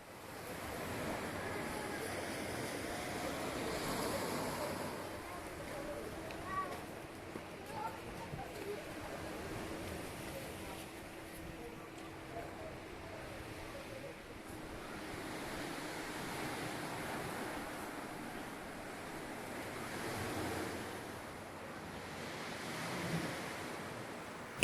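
Sea waves wash steadily onto a quiet autumn beach at Olginka, a continuous surf roar with gusty wind buffeting the microphone, rising and easing in slow swells over the whole stretch.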